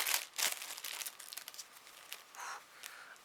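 Plastic wrapping on a package crinkles and tears as it is worked open by hand, a run of close, dry rustling bursts with brief pauses, heard alone without talking.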